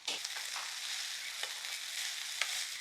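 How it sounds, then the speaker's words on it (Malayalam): Green gram and leafy greens being stirred as a thoran in a pan, a steady close sizzle with soft scraping strokes and a few brief clicks of the spoon, no voices. "ഇനി നമുക്ക് തോരനൊന്ന് ഇളക്കി നോക്കാം"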